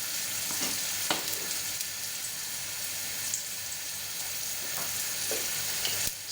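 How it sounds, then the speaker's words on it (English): Chopped hot chili sizzling as it fries in a pan for penne arrabbiata, a continuous close crackling hiss with a few sharp pops, no voices. "So, in with the chili."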